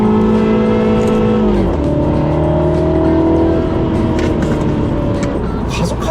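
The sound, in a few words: Mini JCW engine and exhaust sound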